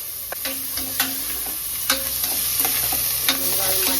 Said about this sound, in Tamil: சாம்பார் வந்து தாளிக்கிறேங்க